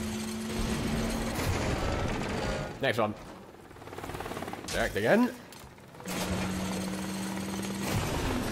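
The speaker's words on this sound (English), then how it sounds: "Is that a helicopter?" Helicopter in the Deadpool video game, heard as a rhythmic chopping and mechanical thrum amid bursts of gunfire and other game effects, with someone talking over it.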